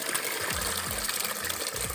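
Water gushes hard and steadily from the tap of a pump-fed water filter for home or depot use, a dense close rush with faint rhythmic pump thumps underneath.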